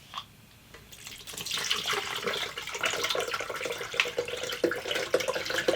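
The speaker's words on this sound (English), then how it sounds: "pour in a bottle of water." Water from a bottle is poured into a Butterbeer shake, making a steady, splashing pour that starts after a brief pause and continues, close and moderately loud, for several seconds.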